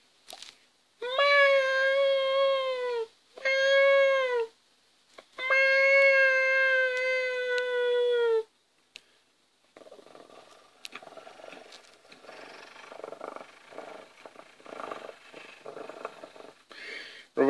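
A cat gives three drawn-out, tonal meows in quick succession, loud and close, followed by a quieter stretch of scratchy, rustling noise.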